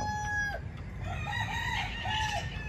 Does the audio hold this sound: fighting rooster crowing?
yes